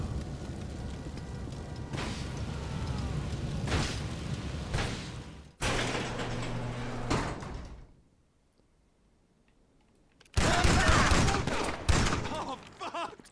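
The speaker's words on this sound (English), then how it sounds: "Shotguns." Shotgun fire in the GTA 5 Online game, with dense, loud bursts of blasts and clatter that break off into near silence before a fresh loud volley erupts at the end.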